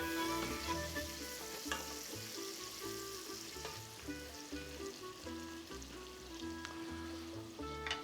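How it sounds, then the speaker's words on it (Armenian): Onion frying in a pan until golden, a constant soft hiss and crackle of oil with the occasional scrape of stirring, close and fairly quiet. "Հարկավոր է սոխը տապակել մինչև ոսկեգույն երանգ"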